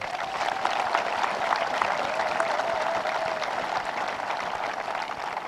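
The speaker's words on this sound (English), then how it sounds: "Can we give her a round of applause for Robert?" Audience applause for an honored military veteran at an Honor Flight event, a steady, moderately loud wash of many hands clapping that continues evenly throughout.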